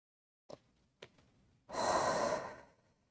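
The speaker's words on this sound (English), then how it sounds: "Another deep breath." A deep breath during a hatha yoga session: a couple of soft sniffs, then one long, close, airy exhale that slowly fades.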